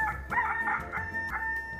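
A rooster crows in a clear, tinny electronic tone, like a phone ringtone, with the call repeating in short bursts.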